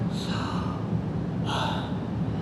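A person breathes to imitate the Soham mantra during yoga teacher training: two close, airy breaths, one short and one longer, over a steady low background hum.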